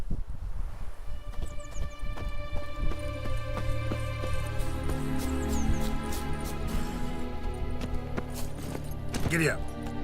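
Horse hooves galloping in The Witcher 3 video game, a steady rapid clip-clop running throughout over layered game music and ambience, with a voice speaking over it.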